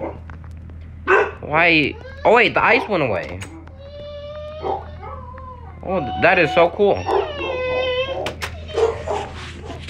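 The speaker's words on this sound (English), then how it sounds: "And I apologize for the dogs in the back." Dogs inside a home bark and whine in the background, with high drawn-out whimpers and occasional yelps sounding behind a person talking throughout.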